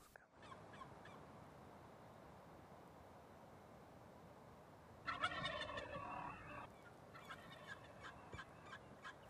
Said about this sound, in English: After hearing a gobble off in the distance